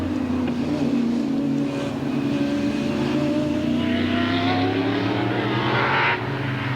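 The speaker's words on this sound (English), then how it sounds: "The V8 supercar has a gap, and Woz is playing catch-up." V8 Supercar racing engine at full throttle on a circuit, a loud sustained roar with rising and shifting pitch as it accelerates, passing close by, then cutting off near the end.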